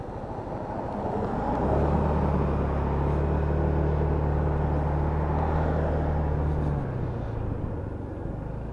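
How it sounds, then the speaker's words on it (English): Lexmoto Pegasus 300cc liquid-cooled motorcycle pulling away into traffic, a steady low engine drone swelling in the middle and easing off toward the end, under broad road noise. "I'm expecting to get this up to 40 mile an hour very, very quickly, being a 300cc liquid-cooled bike."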